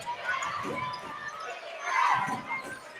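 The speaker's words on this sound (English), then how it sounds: "Crowd getting into it." A crowd at a men's college basketball game, Quinnipiac at Fairfield, murmurs and then swells into a brief burst of cheering before settling again.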